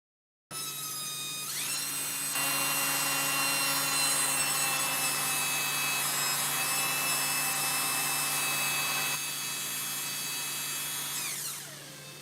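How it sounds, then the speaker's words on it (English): An old electric drill spins steadily for about eleven seconds while cleaning a part from a 1971 140H3 engine, a continuous high whine with a constant pitch that cuts off abruptly at the end, heard alone and close. "This drill's kind of old."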